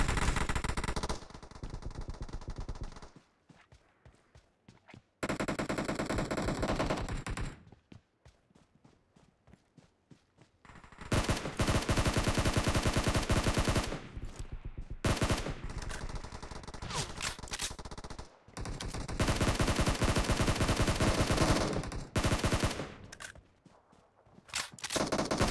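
Gunfire from a BGMI team deathmatch on mobile, dense bursts of rapid automatic fire broken by brief quiet gaps and footsteps, loud and close throughout.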